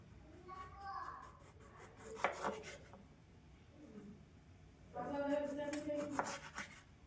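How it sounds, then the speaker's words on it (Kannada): A knife slices through a tomato from the side on a board, producing soft, scattered cutting rubs and a couple of sharper taps, fairly faint and close, with quiet gaps and some background voices. "ಸೊ ಇವಾಗ ಟೊಮೆಟೊ ಮಾಡ್ಕೊತೀವಿ ಏನು ಇಲ್ಲ ಹಿಂಗೆ ಸೈಡಿಂದ ನೋಡೋಣ ಈ ಥರ ಕಟ್ ಮಾಡ್ತೀನಿ"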